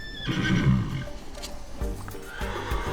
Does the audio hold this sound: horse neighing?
yes